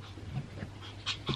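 Pomeranian puppy panting close by in quick, soft, breathy bursts, with a faint whimper or two and no talk.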